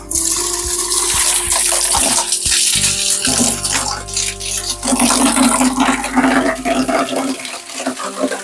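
Water gushes and splashes steadily as a drinking water filter is rinsed with water from a bucket, loud and close, with a brief lull in the middle.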